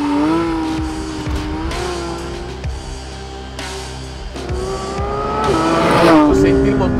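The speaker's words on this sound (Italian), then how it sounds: "Senti il motore quando arrivi a 9000, è una roba che è imbarazzante." A Porsche 911 GT3 with a 4-litre boxer engine and PDK gearbox revs hard toward 9000 rpm, its rising wail climbing, dropping at shifts and surging again, loud and close with someone talking over it.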